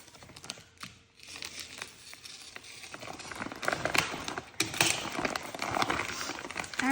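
Scissors cut through the top of a woven vinyl grain bag, making close crinkling and crunching snips that grow louder and denser as the cut goes on.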